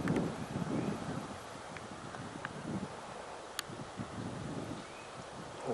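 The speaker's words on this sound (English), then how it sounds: "the wind's really gusty above the treetops here" Gusty wind sweeping across an open golf course and through treetops, a steady broadband rush with low rumbling buffets against the microphone, swelling at the start and holding fairly loud throughout, with faint rustling and no talk.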